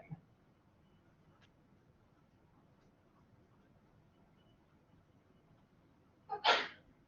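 A single sharp sneeze bursts out near the end after a stretch of quiet room tone.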